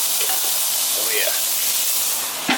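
Steaks sizzle steadily on a Weber Q gas grill heated to 400 degrees, a dense, even hiss with faint crackles and a brief clank near the end.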